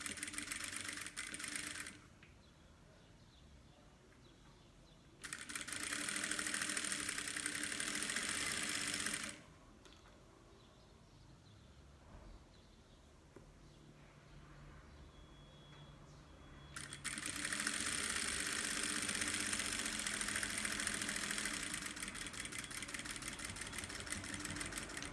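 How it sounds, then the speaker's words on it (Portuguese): A sewing machine stitching a thin seam on a fabric car trash bag with an organizer pocket, running in two steady bursts of rapid mechanical whirring and clatter, close by, with quieter pauses between runs. "Faz uma costurinha fininha, para não ficar abrindo essa dobra."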